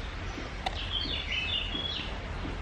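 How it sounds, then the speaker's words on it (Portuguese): Small songbirds chirp outside after a light rain, a few thin high calls and short trills rising over a constant low background hum, with one sharp click near the start. "E esses passarinhos, meu Deus do céu."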